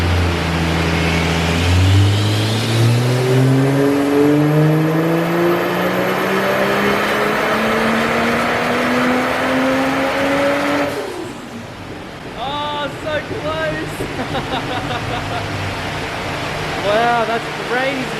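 A Ford Falcon FG Turbo engine at high boost revs hard and loud, its pitch climbing steadily for about ten seconds before cutting off abruptly, followed by excited voices over a lower idle.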